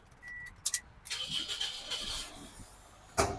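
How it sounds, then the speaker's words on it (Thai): A 2005 Toyota Altis 1.8G engine cranks briefly and catches on the first try, settling into a steady running hum, heard fairly close with a short clatter near the end. "สตาร์ททีเดียวติดนะครับ"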